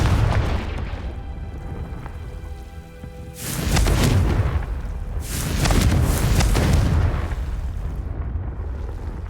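Confringo fire spell in the Hogwarts Legacy video game: two loud, booming blasts a couple of seconds apart, each a deep rumbling burst that swells and fades into low background noise, with no talk over them.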